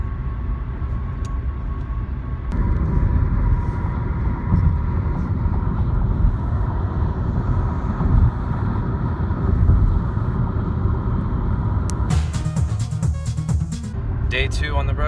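Road noise inside a car on a long highway drive, a steady low rumble and hum throughout, a brief shift near the end.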